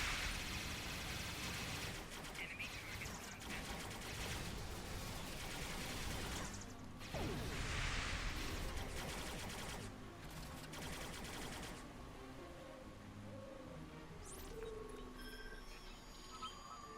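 Weapons fire against Terran enemies in Star Trek Online, dense bursts of quiet, distant-sounding shots and crashing impacts clustered through the first half, thinning into faint scattered effects later, with no talking.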